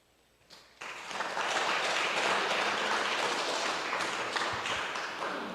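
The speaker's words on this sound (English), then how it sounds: "ask you to give yourselves an applause" A church congregation at an annual meeting applauds together, a dense wash of clapping that starts abruptly after a brief quiet moment and holds steady for several seconds before easing slightly.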